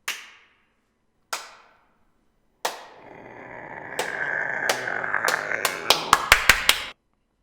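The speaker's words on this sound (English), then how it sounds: "Clap once for each person." Sharp hand claps in a spooky story, three single spaced claps, then a low rumbling bed under a quickening run of claps, close and loud.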